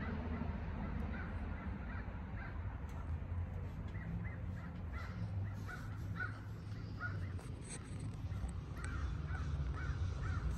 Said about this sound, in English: Hear that bird in the background?